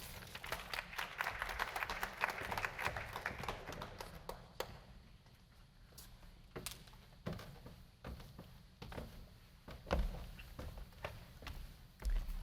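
Audience applause greeting a guest speaker at a museum talk, a broad wash of clapping at the start that thins out into scattered, individual claps and taps.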